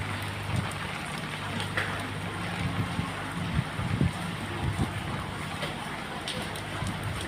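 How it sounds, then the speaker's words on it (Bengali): Steady rain falls outdoors in a dense, even hiss with scattered drops striking nearby surfaces, while muffled low rumbles and occasional faint voices sit underneath. "কীভাবে বৃষ্টি পড়তেছে"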